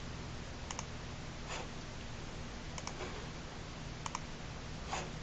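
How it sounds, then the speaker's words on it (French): A computer mouse clicks in Photoshop on a PC, a few crisp double clicks spaced a second or two apart over a steady background hiss, close and without speech. "clique avec le bouton droit"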